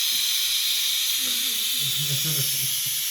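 A Benzomatic gas torch flame hisses steadily and loudly throughout, a constant broadband rush, with faint low tonal murmurs beneath it.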